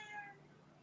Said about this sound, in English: Whose cat was that?